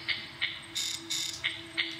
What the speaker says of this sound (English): That's definitely a chair squeaking.